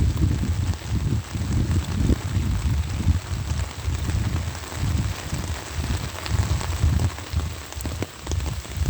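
Steady rain patters on the ground and surfaces during a walk through a residential housing area on a rainy Sunday, with soft footsteps mixed into the even hiss.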